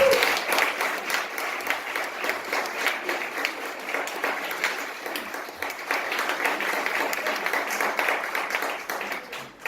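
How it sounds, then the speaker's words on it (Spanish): A congregation at a church leadership class applauds steadily and densely, a continuous roomful of clapping that stays even in level from start to finish at moderate distance. "Denle un aplauso al Señor entonces"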